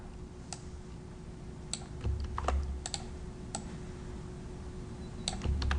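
Computer keyboard keys clatter in quick, uneven bursts of close clicks while code for an Android app is typed, with no speech over it.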